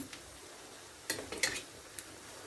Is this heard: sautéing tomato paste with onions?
yes